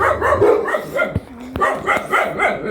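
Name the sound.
dogs barking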